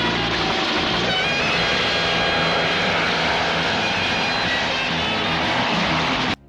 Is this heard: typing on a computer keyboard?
no